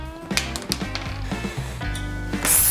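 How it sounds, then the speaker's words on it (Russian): A nut spun onto a threaded rod by a cordless screwdriver-drill attachment, producing close mechanical whirring and rapid ratcheting clicks in short bursts, ending in a louder, harsher whir. "Гайка очень просто теперь накручивается."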